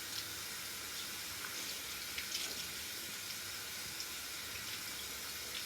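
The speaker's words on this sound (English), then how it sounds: "The next thing we're going to do is run water, and we're going to run the water over the wig." Tap water runs steadily over a wig held under the faucet, a constant soft hiss and splatter with no voices, fairly faint and unbroken for several seconds.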